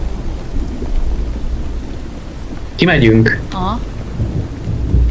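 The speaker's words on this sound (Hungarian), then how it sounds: "szakad az eső" Heavy rain pours steadily in a Minecraft horror mod, a constant dense hiss with low rumbling underneath, while a voice briefly speaks over it midway.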